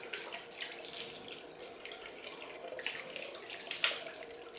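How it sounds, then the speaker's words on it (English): Cold tap water rinsing a head to wet it down before a head shave, a steady, soft splashing and running flow that continues throughout with a few brief louder splashes near the end. "I need to wet down my head, give myself a cold rinse"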